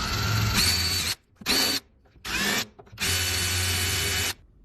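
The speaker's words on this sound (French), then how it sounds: "tu viens me percer les trous de tes verrous qui vont te servir tout simplement de gabarit" An electric drill boring pilot holes for a door deadbolt, four bursts of high whirring motor spin separated by short pauses, the last run longest, close and loud.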